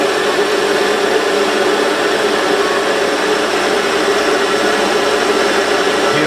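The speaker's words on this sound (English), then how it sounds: "So on this little lathe, I'm taking 4 mil off the diameter in one cut." Warco WM180 lathe taking a heavy 4 mm cut off the diameter: loud, continuous, even broadband roar of motor and cutting, close and unchanging throughout, with no talking.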